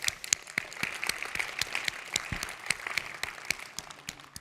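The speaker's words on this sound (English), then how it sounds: "One more round of applause for them." Scattered, fairly faint clapping from a conference audience at a Microsoft technical session, sparse individual claps rather than a full ovation, fading toward the end.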